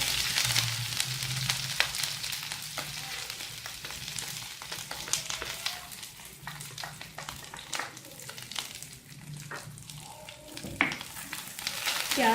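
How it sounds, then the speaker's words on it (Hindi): Onions frying in oil in a pan for Kashmiri mutton rogan josh, a steady close sizzle with occasional stirring scrapes and a faint low hum underneath. "प्याज को हमें गोल्डन फ्राई करना है"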